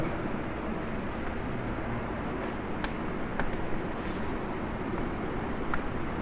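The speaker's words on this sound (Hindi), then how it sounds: "ठीक से लिखता हूँ" Scratchy pen or marker strokes during an electronics lecture on transistors and diodes, steady and close against a constant hiss, with a few faint ticks and no talking.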